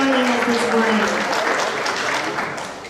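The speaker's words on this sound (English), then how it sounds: "Please clap hands" Applause from an audience at a Computex 2014 presentation fills the whole stretch, a dense, steady wash of clapping that tapers slightly at the end, with a voice speaking briefly over it at the start.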